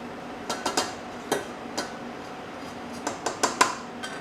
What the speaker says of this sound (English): Now we're going to transfer it into the mixing bowl